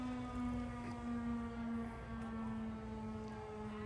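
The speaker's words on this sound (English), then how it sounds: "they run the volunteer fire department's fire alarm siren at 12" A volunteer fire department's fire alarm siren sounds its noon signal in a small Michigan town, a steady, distant wail holding one pitch under faint outdoor ambience, with no voices.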